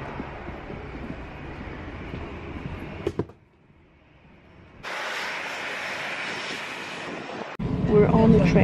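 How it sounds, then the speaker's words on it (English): Train ride in spring weather heading toward Oslo: a steady rumbling interior roar of the railcar on the rails, briefly quieting as if passing a gap, then resuming loud and broadband, with a louder surge at the end. "We're on the train."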